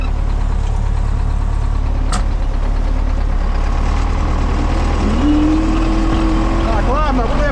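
An MTZ 82.1 tractor pulling a Demetra mini 3000 seed drill while sowing soybeans gives a loud, constant engine drone close by. A rising whine is heard near the end.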